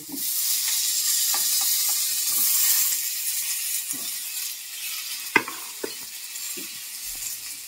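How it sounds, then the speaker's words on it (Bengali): Potatoes frying in oil tempered with five-spice, a soft steady sizzle with occasional stirring scrapes and a sharp clink, close and without talk. "এবার আলুটাকে আমি একটু 2 মিনিট ভেজে নেবো"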